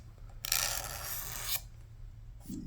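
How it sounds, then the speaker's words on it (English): A hand scraper shaping a composite saddle on an Epiphone acoustic guitar, one close, quiet rasping stroke lasting about a second, then a faint brief scrape. "This composite material actually shapes rather well with the scraper."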